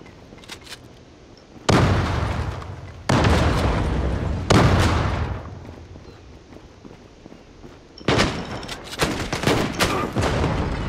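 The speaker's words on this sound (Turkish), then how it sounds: "Şuraya bir bomba sallayayım." A grenade thrown in the online shooter Zula goes off as several heavy, booming blasts spread across the scene, mixed with bursts of gunfire and scuffling footsteps.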